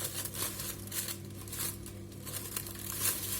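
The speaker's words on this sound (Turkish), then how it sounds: "Ve poşetimin ağzını sıkıca kapatıyorum." Plastic crinkles and rustles continuously up close as a bag is twisted and tied shut, with a low hum in the background.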